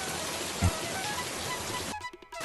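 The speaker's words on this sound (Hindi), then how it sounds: "बारिश बहुत तेज है" Steady hiss of heavy rain falling continuously, with one soft thump partway through before the sound breaks up near the end.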